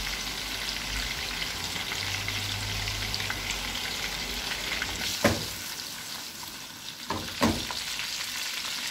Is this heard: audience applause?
no